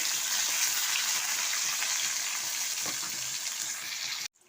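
Diced potato and a small tomato sizzling in hot mustard oil in a pan, a steady bright crackling fry that holds throughout and cuts off abruptly at the end.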